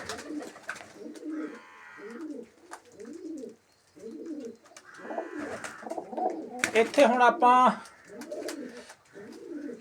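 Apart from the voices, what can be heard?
pigeons cooing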